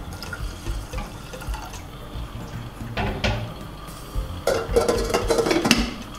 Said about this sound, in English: You have to put a lot of water because it swells a lot.